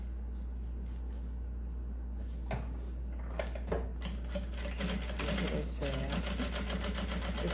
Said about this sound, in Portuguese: vou passar uma costura em toda a volta, prendendo o forro no material principal aqui.